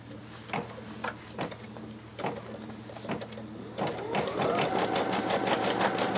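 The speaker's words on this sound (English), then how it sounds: "notice the next stitch is actually a basting stitch." An embroidery machine sews a long basting stitch: a steady series of close needle thumps with a motor hum, speeding into a faster, denser whir toward the end.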